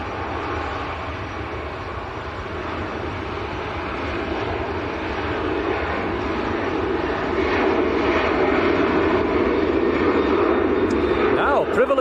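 A Ryanair jet airliner taking off at Manchester airport, heard from a distance as a broad, steady engine roar that slowly swells louder across the stretch, with a voice talking over it.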